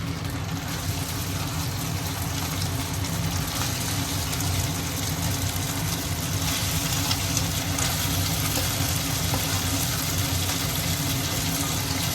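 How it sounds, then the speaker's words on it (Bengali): Cold tap water runs without a break over boiled pasta as it is rinsed, a loud, close, broadband rush mixed with a low hum and no voices. "পাস্তাটা না অল্প বয়েল করার পরে আমরা ঠান্ডা জলে একটু ঠান্ডা করে নেব, মানে ধুয়ে নেব"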